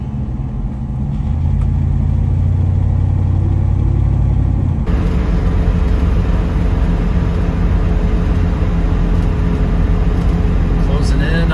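Car cruising along the highway toward St. Ignace, a continuous low engine and road rumble that swells louder about halfway through and then holds steady.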